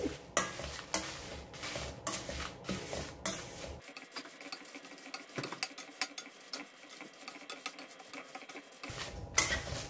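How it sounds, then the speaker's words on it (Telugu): Dry red chillies and sesame seeds roasting in a dry pan on low flame, stirred continuously, give a steady scraping, rustling rattle with light sizzle, close and fairly quiet, with repeated stirring strokes throughout. "ఎండుమిర్చి, ఇవి మాడకుండా కంటిన్యూస్గా కలుపుతూ మనం వీటిని దోరగా వేయించుకోవాల్సి ఉంటుంది"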